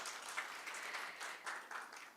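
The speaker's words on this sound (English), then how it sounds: "Definitely you need a round of applause for yourself." Faint, steady applause from an audience at an NGO awards ceremony: many hands clapping together in a continuous wash, heard from some distance with no voices.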